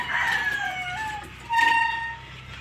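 A single hen call with drawn-out, tonal notes rises and holds, followed by a second similar cry, fairly loud over a quiet background.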